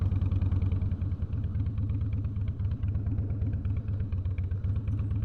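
A Harley-Davidson motorcycle engine runs loud and close with a deep, steady, lumpy throb, its low rumble holding unbroken with no talk over it.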